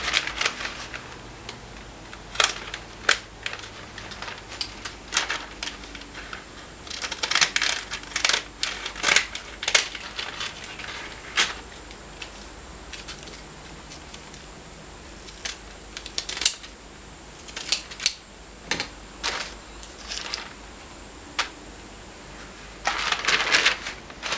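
Scissors cutting fusible patch material to size for darning a worn jeans knee, a run of irregular close snips and rustles over quiet room tone, no talk.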